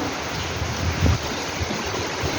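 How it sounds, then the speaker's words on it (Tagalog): A steady, loud roar of strong typhoon wind fills the whole clip, broad and unbroken, with a slight gust swelling midway. "Ang hangin pa lang, oh. Grabe na, oh."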